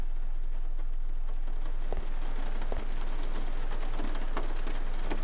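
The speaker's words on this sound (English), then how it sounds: "I love the sound of the rain on the windows" Rain pattering against windows, a steady soft hiss with scattered louder drops tapping close by, moderately quiet and continuous with no talking.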